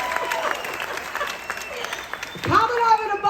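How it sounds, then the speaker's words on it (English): Audience applause at a show, a moderate wash of clapping with a voice speaking over it and a louder swell of clapping and cheering near the end. "Can we give Willie a massive round of applause for his service and thanks to all the military personnel."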